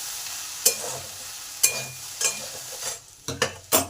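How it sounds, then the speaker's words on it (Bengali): Okra and potatoes cook in a pan and are stirred, a soft steady sizzle punctuated by several sharp scraping and clattering strokes against the pan, close and clear with no voices. "এগুলোকে বারবার চাপা খুলে নেড়ে দিয়ে আবার চাপা দিতে হবে"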